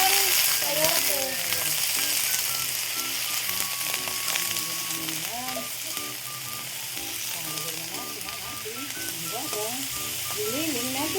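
Chopped sayote and ground meat sautéing in a hot pan give a steady sizzle throughout, with voices chatting over the cooking.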